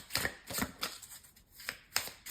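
Tarot cards are handled for a reading, with several quick close papery flicks and slaps in an uneven rhythm, heard alone without talk.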